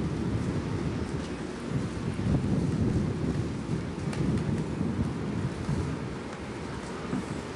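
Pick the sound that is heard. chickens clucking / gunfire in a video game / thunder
thunder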